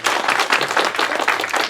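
A church congregation claps together after a Sunday morning sermon and prayer, a dense steady patter of many hands at moderate loudness, continuous with no pauses and no talk over it.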